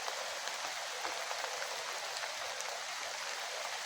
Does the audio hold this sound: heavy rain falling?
yes